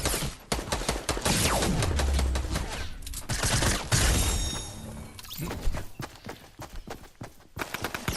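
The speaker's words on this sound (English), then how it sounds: "Someone's come to shoot this dude." Gunfire in Fortnite: dense, continuous bursts of rapid shots with clattering impacts filling most of the stretch, loud and close, easing into scattered sharper cracks near the end.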